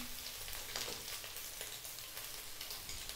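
Chicken and garlic stir-fry in a pan for Filipino-style chicken fried rice, sizzling in a steady, faint hiss with a few soft stirring scrapes and no talk.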